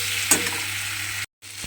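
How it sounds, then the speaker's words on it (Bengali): Ginger paste sautéing in a pan of pumpkin curry, a steady close sizzle with a brief stir near the start and a momentary cut in the sound near the end. "আদাটা দিয়ে আমি একটু কষিয়ে নিয়েছি"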